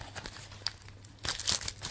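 Plastic wrapping on Malkyrs: Les Arènes de l'Éternité trading card booster packs crinkles and crackles in close, continuous bursts, growing louder and denser toward the end, with no voices.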